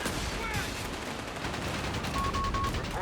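Rapid bursts of gunfire from a quad anti-aircraft machine gun in the World War II strategy game Company of Heroes 3, dense rattling volleys over a busy battlefield din, with a faint tonal blip near the end.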